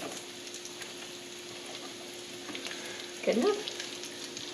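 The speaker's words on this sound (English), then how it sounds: "The pancetta is cooking up nicely, so I am going to go ahead and add the onions to this." Pancetta and onions fry in a pan on the stove for a cauliflower crust pizza, making a steady, close sizzle with a short burst of sputtering near the end as someone briefly speaks.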